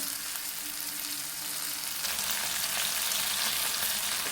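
Okra sizzling in hot oil in a pan, a steady dense frying hiss that holds throughout and swells slightly in the second half, with no voices.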